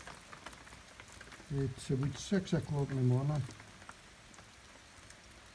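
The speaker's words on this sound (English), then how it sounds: "I'm just waiting for the rain goes off so I can get out." Steady rain falling outdoors at dawn on Loch Fyne, a soft continuous patter and hiss in the background while someone speaks briefly over it.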